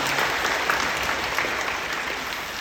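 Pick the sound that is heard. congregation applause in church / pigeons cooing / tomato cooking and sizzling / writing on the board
congregation applause in church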